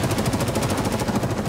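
Automatic gunfire in Escape from Tarkov: a rapid, even, continuous burst of loud shots that pulse steadily throughout.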